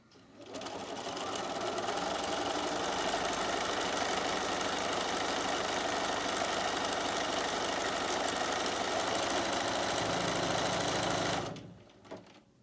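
A sewing machine stitches silk organza, running in a fast, steady mechanical chatter for about eleven seconds before stopping, followed by a faint click.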